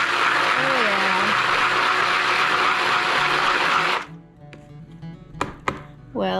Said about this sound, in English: I wonder if my emulsion blender would work.